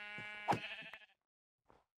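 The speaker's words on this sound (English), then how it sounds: "Oh, we got some more sheepies." Sheep in Minecraft bleat in a single loud, nasal call near the listener, its wavering tone ending after about a second, with a short faint creature sound following after a pause.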